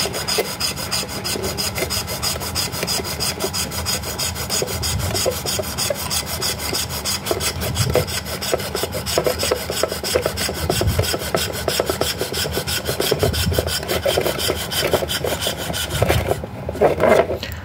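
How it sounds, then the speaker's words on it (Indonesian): Rhythmic rasping strokes of a hacksaw cutting through hardened plain cement, steady back-and-forth scraping that continues close up for the whole stretch. "ini semen doang jadi masih bisa dipotong dengan gergaji besi"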